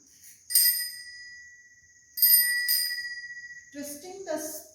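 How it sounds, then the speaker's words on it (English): A small bell with a spring inside rings as the spring is twisted, giving two bright, clear rings that fade slowly, followed by a few lighter, rattling jingles near the end. "twisting the spring inside this bell, this is the spring inside this bell"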